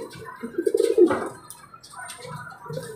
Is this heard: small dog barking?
no